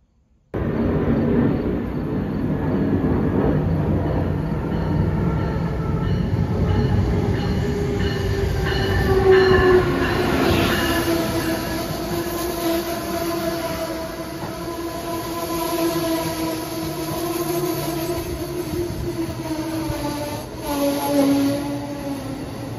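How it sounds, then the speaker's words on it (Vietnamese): Train ride toward Washington DC heard from inside a rail car: a steady rumble with wheels squealing along the track, rising and falling tones and a clatter that runs the whole time, with no one speaking. "Lần này thì mình đi bằng xe lửa."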